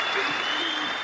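A short burst of clapping, an applause sound effect played during a talk show, steady and fairly loud for about a second with no other sounds over it.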